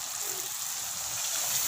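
Water pours into a hot pan of cumin, dried coriander and black pepper, a steady hissing gush throughout with faint background noise.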